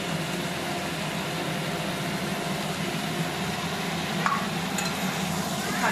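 Yardlong beans, potato and taro sauté in spices in a pan, giving a continuous close sizzle and frying hiss with occasional faint scrapes and clinks of stirring and no talking.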